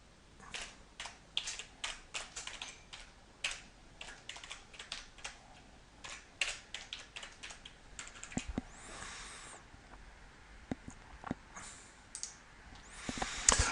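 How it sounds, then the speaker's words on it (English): Typing on a computer keyboard while recording with screen-capture software, rapid close key clicks in uneven bursts and short pauses, with no talking. "you would then simply start typing."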